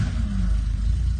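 A Jaguar car engine catching and running with a steady, rickety low rumble, close and continuous throughout, with no talking.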